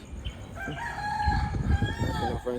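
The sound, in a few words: rooster crowing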